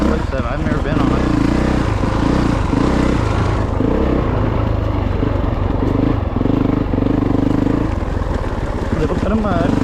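A 450 dirt bike fitted with hard terrain tires rides a rough single track, its engine loud and close throughout, droning and revving steadily with pitch swells as the rider works the throttle over the terrain.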